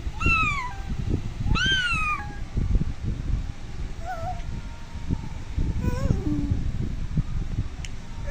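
A child imitates a cat's meow, giving a few drawn-out, rising and falling mewing cries with gaps between them, heard close and clear over steady low background noise.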